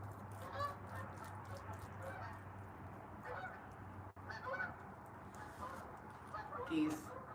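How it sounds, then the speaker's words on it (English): Geese honk repeatedly outdoors in cold air, some calls nearer and louder than others, over steady background noise and a low hum, with a person talking in between. "geese."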